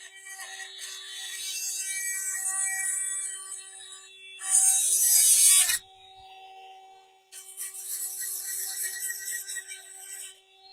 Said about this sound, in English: I'm going to drill a hole in this